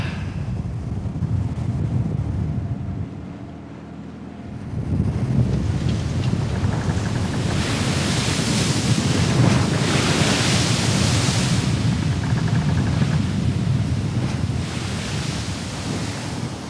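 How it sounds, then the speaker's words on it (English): Wind and rolling waves in the open Pacific Ocean, a steady broad roar of surf and gusting wind over the microphone, swelling louder after a brief lull, with no voices. "So here I am in the middle of the beautifully blue Pacific Ocean."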